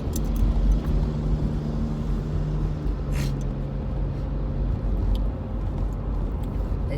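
SUVs speeding past on a road, a steady broadband rush of passing traffic with engines and tyres droning throughout, fairly loud and close, with a few brief sharper noises and no clear talking.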